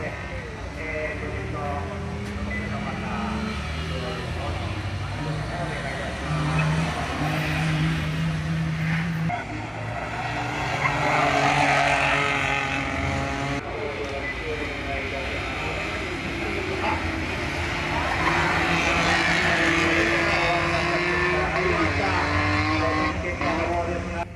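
K class race cars qualifying on the Owara Circuit, engines revving up and down in repeated sweeping pitches as cars pass, a steady mechanical roar from mid-distance with a voice talking over it.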